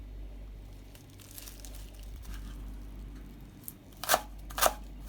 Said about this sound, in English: Just like you cutting other types of mallum leaves, you just cut it very finely, you see.